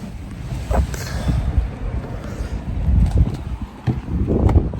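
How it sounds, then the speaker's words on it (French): A light breeze blows outdoors in the shade beside a parked car, giving a soft, uneven rumble of wind gusts that swell and fade with no talking. "Ah, il y a du petit vent, ça fait trop du bien."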